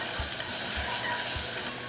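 Onions sizzle in a pot while being stirred for French onion soup, a loud steady fry with a few soft scraping stirs repeating at short intervals.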